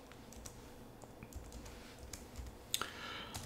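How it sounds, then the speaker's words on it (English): Keys tapped on a computer keyboard while entering a package name in a Linux package manager search, a quiet irregular run of soft clicks with a few sharper taps near the end. "I'm going to type in a package."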